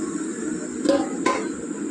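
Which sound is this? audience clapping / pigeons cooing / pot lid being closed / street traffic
pot lid being closed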